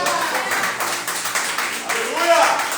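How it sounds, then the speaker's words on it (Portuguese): A church congregation claps in praise of Jesus during a Portuguese-language evangelical service, a rapid, steady patter of many hands, with speech running over it. "aplauda o nome de Jesus."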